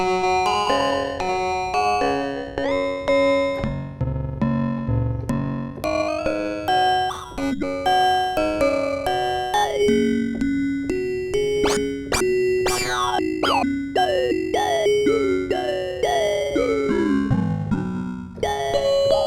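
A Sequential Prophet-6 synthesizer using filter FM plays bright, bouncy notes with sliding pitch bends and vowel-like, talking formant tones. It runs continuously and loudly with no speech.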